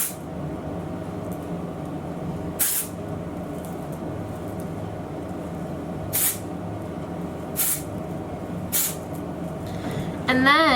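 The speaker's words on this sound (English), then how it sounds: "I'm gonna go ahead and just go crazy spraying this" Several short, sharp hissing bursts of aerosol hairspray sound at intervals over a steady low background hum.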